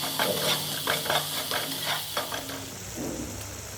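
Onions fry and sizzle on a stove with steady hissing, while a utensil stirs the pan in a rhythmic series of scraping strokes up close.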